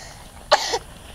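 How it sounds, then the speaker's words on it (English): A child coughs once, a short close cough with a faint second catch, amid quiet outdoor background. "Still have that stupid cough, huh?"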